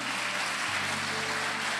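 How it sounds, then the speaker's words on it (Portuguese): Morning church congregation applauding, a dense, even wash of clapping that continues steadily with no voices over it. "Aplaude bem gostoso"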